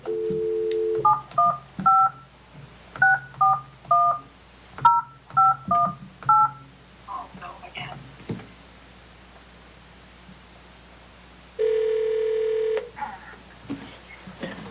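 A telephone number is dialed as a rapid sequence of about a dozen loud, close touch-tone beeps in short bursts, followed after a quiet gap by a single longer tone, during a council meeting call.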